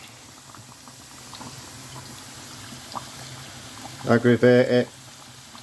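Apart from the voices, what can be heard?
fishcakes frying in fizzing hot oil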